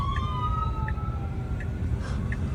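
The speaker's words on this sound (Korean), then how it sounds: "옆에서 구급차가 지나가다 보니까" An ambulance siren wails steadily in the background, its tone sweeping in a repeating rising and falling pattern as it passes a car on the road, heard over constant low road rumble.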